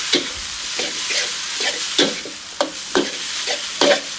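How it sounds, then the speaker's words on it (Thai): Glass noodles seasoned with fish sauce, sugar and oyster sauce being stir-fried in a wok, loud close scraping tosses of a spatula landing about twice a second over a low sizzle, no talking. "ผัดให้เข้ากัน ผัดจนปลาวุ้นเส้นสุก"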